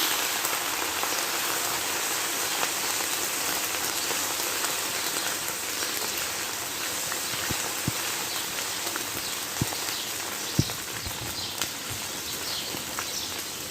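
Ginger garlic paste fries in a pan, a dense, steady hiss of sizzling with scattered small pops and crackles throughout, no voices.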